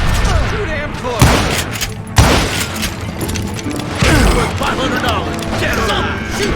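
Gunfire from the Wild West shooter Call of Juarez: Gunslinger comes in several loud, sharp shots amid mechanical clatter and a busy battle soundscape, with a voice speaking over the action.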